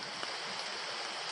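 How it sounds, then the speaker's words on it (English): Steady broadband rush of a creek flowing below a ridge along the Tapi coal line, faint and continuous with no voices. "There's a creek below us."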